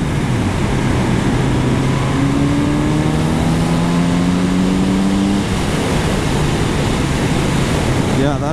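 Kawasaki Z900RS motorcycle engine revving under throttle while riding, rising engine tones climbing over steady wind and road roar, close and loud.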